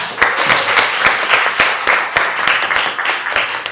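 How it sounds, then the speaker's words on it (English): Audience at a town candidate forum applauding the candidates, with steady, dense clapping from many hands filling the room, sharp individual claps standing out near the front and no talk over it. "Let's give all the candidates a round of applause."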